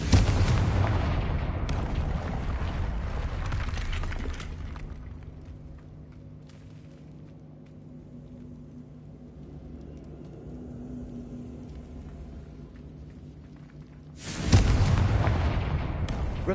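Confringo blasting-curse explosions in Hogwarts Legacy open and close the stretch, heavy booming bursts with broad rumble, while a quieter low hum fills the middle between the blasts.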